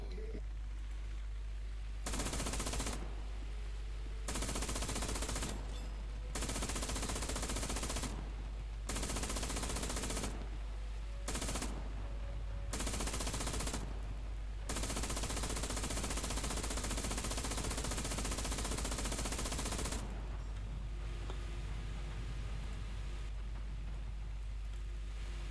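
Repeated long bursts of machine-gun fire in War Thunder on a German naval vessel, loud and close, broken by short pauses and ending in a stretch of steady hiss and rumble.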